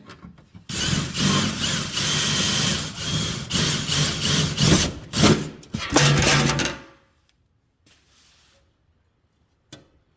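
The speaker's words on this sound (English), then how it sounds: "So we'll basically drill again." A loud, grinding power drill bores a hole for a custom undershroud on a Nissan 350Z or Infiniti G35, running in bursts for several seconds, then stops, leaving near silence with a couple of faint knocks.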